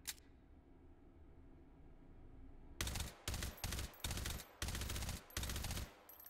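Gunfire in the VR shooter Hot Dogs, Horseshoes & Hand Grenades on HTC Vive: after a quiet stretch, a string of loud, close bursts follows one another, each a dense volley with short gaps between.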